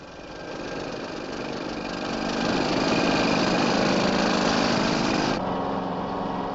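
A compressor mounted on a Unimog municipal truck and driven by its front power take-off runs with a steady mechanical drone, swelling louder midway and then shifting to a lower, steadier tone near the end.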